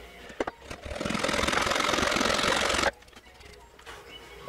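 A power tool trims a knife handle at an angle, a loud steady whirring grind lasting about two and a half seconds before cutting off abruptly, with faint handling knocks before and after.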